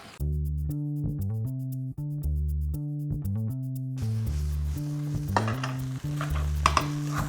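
Rice stir-fried with eggplant in a pan for a green curry shrimp fried rice, music alone at first, then a crackling sizzle with light scraping rising beneath the music.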